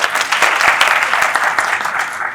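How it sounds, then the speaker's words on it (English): Audience at an IEEE conference session claps in a steady, dense burst of applause, close and fairly loud, with no talking over it. "A round of applause for him."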